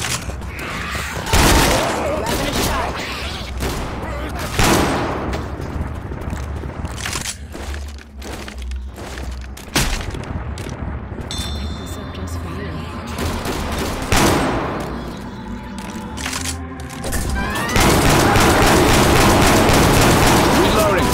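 Gunfire in the zombie shooter Left 4 Dead 2 on the Death Mountain map, with sharp broadband bursts and rapid volleys that repeat through the scene over constant game noise and some talk.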